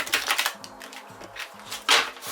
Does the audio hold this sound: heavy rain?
no